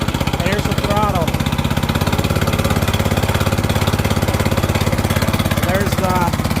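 A small Honda engine runs steadily at close range, a constant low throbbing drone, with a slight shift in tone as the clutch engages partway through; a person talks over the engine.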